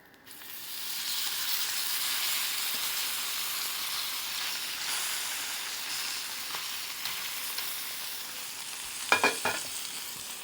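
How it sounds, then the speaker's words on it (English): An A5 Japanese ribeye steak sears in a hot pan with a broad, steady hiss that swells early and holds. Near the end a few sharp clatters ring out as the meat is handled. "Now it's time to flip it."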